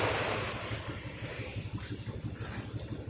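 Sea waves surge and wash around a small fishing boat offshore, with steady rumbling water, wind buffeting the microphone, and a low throbbing engine-like pulse underneath.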